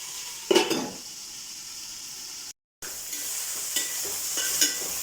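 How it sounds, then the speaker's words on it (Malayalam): Chicken curry is stirred in a pot over the heat. A soft sizzle runs underneath, with a sharper scrape of the utensil early on and a few light clinks later. No one speaks. "എന്നിട്ട് നന്നായി ഇളക്കി കൊടുക്കാം."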